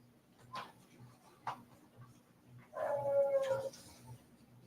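A dog whimpering in short, soft cries, then letting out a longer, wavering howl, close and fairly quiet in an otherwise still room.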